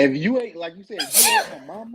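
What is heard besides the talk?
sneeze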